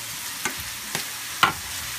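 Mushrooms and onions frying in a pan give a steady soft sizzle, with three brief stirring scrapes spaced about half a second apart, close and fairly quiet with no talking.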